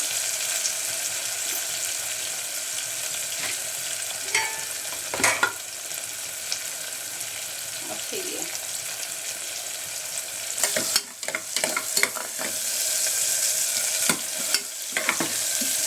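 Steady, fairly quiet sizzle of spiced mixture frying in a pan for chicken kabab, with a few brief clattering stirs and scrapes partway through and near the end.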